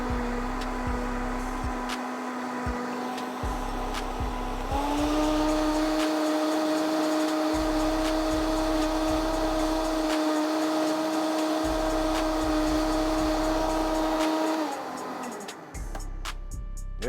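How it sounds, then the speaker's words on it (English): A Vitamix blender pulverizes spinach for a pastina recipe, running as a loud, steady motor whine for about ten seconds whose pitch steps up partway through, then spins down, with rhythmic thumps beneath it throughout. "Gonna cut this on and blend it till it's"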